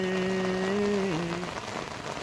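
Heavy rain pours steadily and loudly on surfaces in a hilly mountain setting, a dense continuous hiss throughout, while a faint sustained musical tone plays briefly underneath before fading out.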